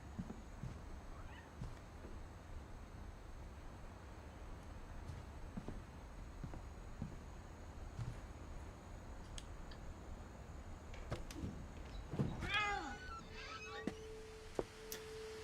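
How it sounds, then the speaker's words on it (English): A cat meows in the game What Remains of Edith Finch: after a quiet stretch of faint ambient creaks and ticks, a couple of drawn-out, wavering meows rise near the end, fairly close and clear. "if that's a cat"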